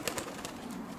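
A roller pigeon, a small red bird, gives a brief soft coo with a couple of quick low pulses, close by and heard alone in a quiet loft.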